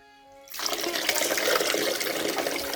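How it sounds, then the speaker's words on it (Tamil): Basmati rice is washed in water at close range. After a brief near-silent moment, a steady sloshing, pouring rush of water begins and continues. "ஒரு 3 தண்ணியில் கழுவி எடுப்போம்."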